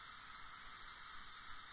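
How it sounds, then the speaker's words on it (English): Steam releasing from a pressure cooker through a dragon-shaped diverter, a steady, fairly faint high hiss that holds evenly without a break and has no talk over it. "can you guys see the steam coming out from the dragon's mouth"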